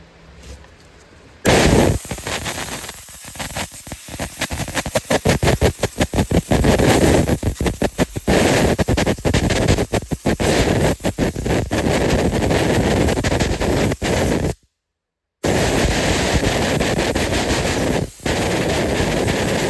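Compressed air and carb cleaner blasting through a Stihl MS 201 C chainsaw air filter: a loud, sustained broadband hiss with rapid sputtering bursts, cut off briefly near the end before resuming.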